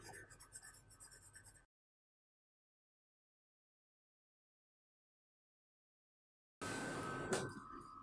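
An F graphite pencil shades tones onto paper, giving a soft, close scratchy rasp in two bursts, a short stretch of strokes at the start and another after a long silent gap.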